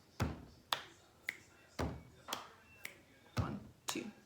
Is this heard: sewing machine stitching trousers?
no